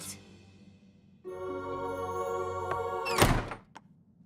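A cartoon door thunks shut with a sharp, loud slam near the end, following a stretch of sustained musical tones; a short knock-like tap follows.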